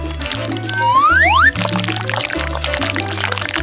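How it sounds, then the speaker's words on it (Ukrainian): Honey is poured into a glass of strawberries, giving a close, liquid filling sound with a rising glug partway through, followed by gentle wet squishing. "Заливаємо у келих з полуницею медок."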